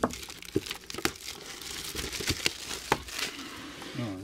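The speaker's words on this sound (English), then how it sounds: "Let's get the skinny on this kit as we chop open the plastic here." Hobby knife slicing and tearing open the plastic wrap on a Revell/Monogram 1971 Plymouth Hemi Cuda model kit box, giving repeated crinkles, sharp snaps and rustles up close at an uneven pace.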